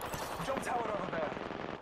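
Rapid automatic gunfire from a firefight in the battle royale game Apex Legends, a dense, continuous rattle of shots filling the short stretch at steady loudness, with faint tonal game effects mixed in.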